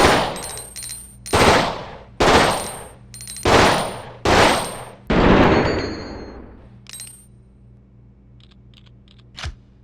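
A burst handgun fires in the video game Resident Evil Outbreak: six loud, sharp bursts in an even rhythm over about five seconds, then quiet clicks and a single faint tick.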